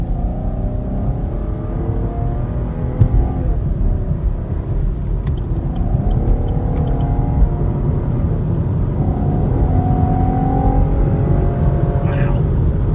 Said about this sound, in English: if that's a V6, it sounds great